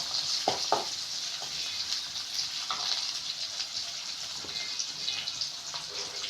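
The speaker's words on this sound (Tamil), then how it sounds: "வெங்காயம் நல்லா வதங்கணும்." Onions sautéing in a pan for a Tamil-style cabbage poriyal give off a steady, moderately close sizzle, with a few faint stirring clicks scattered through it and no voices.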